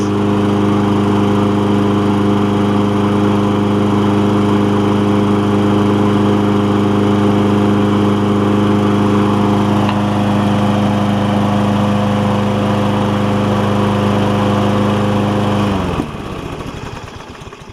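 A Toro Recycler lawn mower with a Kohler engine runs steadily at a loud, close, even idle as it warms up, then cuts off abruptly near the end.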